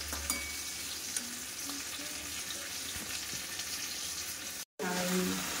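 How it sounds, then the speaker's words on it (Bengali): A spice paste fries in a pan while being stirred, making a continuous close sizzle with scraping stir strokes. The sound cuts out for a moment near the end, then the frying hiss returns. "মশলাটা দিয়ে 2 মিনিট একটু নাড়িয়ে চাড়িয়ে"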